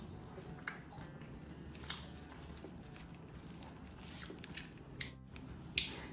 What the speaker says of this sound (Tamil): இப்ப கொஞ்சமா சாதம் எடுத்து அதோட வச்சு சாப்பிட்டு பார்த்துருவோமா.